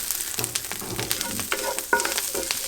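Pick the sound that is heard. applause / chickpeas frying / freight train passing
chickpeas frying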